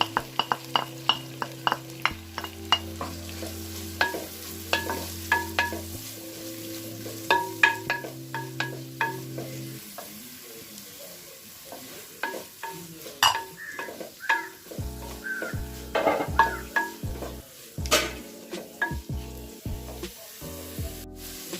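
Chopped shallots hissing in a pan for Kerala-style prawn ghee roast, stirred with frequent sharp utensil scrapes and taps over a steady close sizzle, with a brief pause midway before the stirring picks up again.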